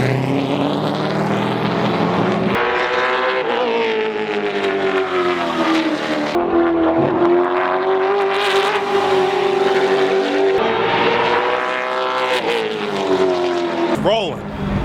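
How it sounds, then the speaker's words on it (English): A modified race car at Dominion Raceway drives around the track, its engine a loud, steady droning roar that rises and falls in pitch as it revs, with a sharp burst near the end and no talk. "Mr. Myers is in the car now. Should be pretty good. Gonna take it for a spin."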